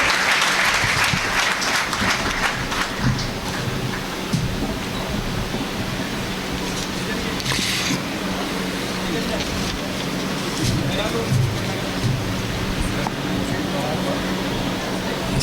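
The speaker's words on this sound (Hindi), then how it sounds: "एक बार जोरदार तालियां हो जाए" A Rotary Club audience in Gadarwara claps loudly to welcome the chief guest, a thick, continuous roar of applause filling the room throughout, with a faint voice underneath at moments.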